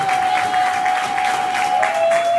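A church congregation applauds as an apostle is welcomed forward, steady massed clapping throughout, with a sustained tonal hum or feedback whine running beneath it.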